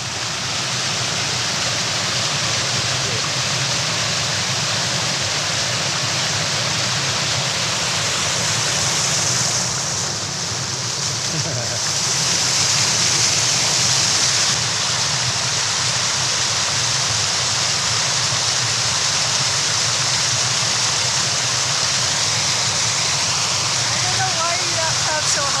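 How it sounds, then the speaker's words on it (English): Small waterfall and stream on a walking loop in the Brecon Beacons, a steady broadband rush of moving water throughout, fairly close and continuous, with people talking faintly over it. "Little waterfall there."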